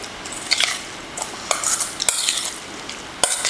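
A spoon stirs chimichurri sauce made with fresh oregano in a bowl, giving a series of close, irregular clinks and scrapes against the sides, with no talking.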